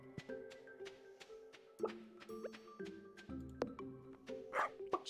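A dog in a farming video game gives a series of short barks and yips, mixed with plinking plops and game chimes, at a moderate level.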